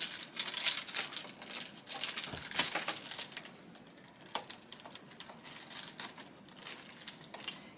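Screen-print vinyl being slowly peeled away from a backing sheet for homemade confetti, giving a steady run of close, soft crackling and sticky tearing ticks with small louder pops, heard alone.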